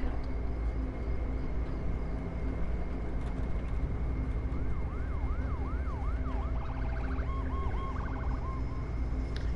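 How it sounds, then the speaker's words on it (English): An emergency siren wails in rising and falling sweeps partway through, heard amid steady traffic and engine noise, moderately distant, in The Last of Us Episode 1. "You know you're supposed to pull over when you see sirens."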